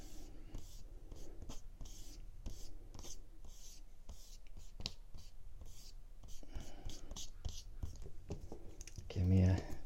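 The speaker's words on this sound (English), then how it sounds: "I'll often just sort of use my kneaded eraser and erase back everything a little bit" A kneaded eraser rubs back across a pencil drawing of an apple on paper, giving soft, close, repeated scrubbing strokes in quick bursts that keep on quietly through the whole stretch.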